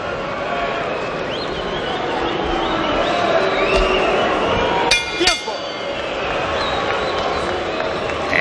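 Restless crowd murmuring and stirring in a boxing arena during the Orlando Salido vs Juan Manuel Marquez fight, a steady, dense wall of crowd noise with a brief sharp clink midway.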